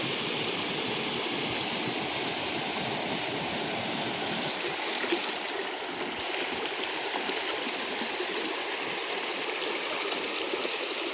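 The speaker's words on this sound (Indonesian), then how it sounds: "Ini ada dua sungai yang bertemu dalam satu sungai" A river rushes steadily beneath Cangar bridge where two streams join into one, a broad, continuous roar of flowing water that stays close and even throughout, with no talk.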